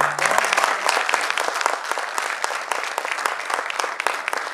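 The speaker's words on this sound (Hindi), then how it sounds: "आपकी भरपूर तालियों।" Audience applause at an Urdu poetry mushaira, a full, sustained burst of many people clapping close by, with a brief voice at the very start.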